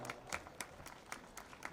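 Faint, steady clapping from an audience at an academic prize distribution ceremony, the claps landing in an even rhythm of roughly four per second, distant and soft with no voices over it.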